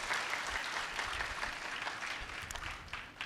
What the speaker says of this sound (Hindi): आप सभी बच्चे उनके लिए ज़ोरदार तालियां बजाएं